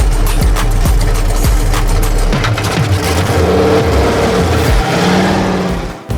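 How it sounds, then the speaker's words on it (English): A drift car at a drift competition in Oman revs hard and accelerates up through the gears, loud and close, with sharp pops and shifts before the engine note drops away at the end. "Slots the car into gear, through the gears, down he comes, up to the initiation point."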